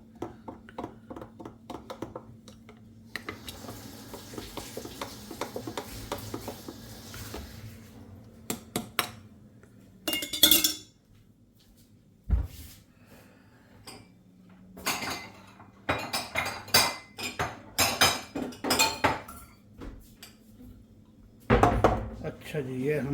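A spoon clinking and stirring a dry fruit drink in glasses, a series of sharp metallic clinks and taps separated by quiet gaps.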